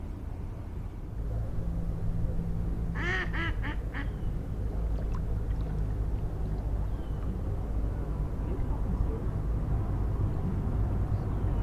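A duck quacks in a short burst of several quick calls beside the Erie Canal, heard from a kayak over steady outdoor background noise, with the rest of the clip quiet apart from the ambience.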